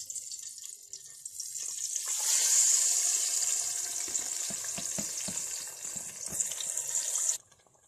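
Chicken pieces hit hot onion-flavoured oil in a pan, setting off a loud, close sizzle that swells and holds steady, with scattered stirring scrapes before cutting off abruptly near the end.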